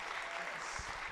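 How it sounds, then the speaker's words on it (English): A soft, brief burst of audience applause, distant and low in level, with a few heavier thumps near the end. "Give him a round of applause."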